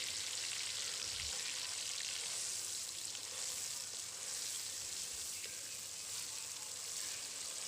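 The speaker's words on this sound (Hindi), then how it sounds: "ये देखें, प्याज का अब हम हल्का ब्राउन करने के लिए छोड़ते हैं।" Onions fry in a cup of hot oil while lightly browning for a restaurant-style chicken karahi. The sizzle is faint and continuous, a soft uniform crackle at a distance with no talking.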